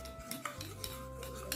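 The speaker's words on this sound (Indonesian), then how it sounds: "Setelah ini kita aduk dulu" A metal spoon stirs a honey skin scrub mixture in a bowl, giving soft, repeated clinks against the bowl in a quick, uneven rhythm, close and quiet.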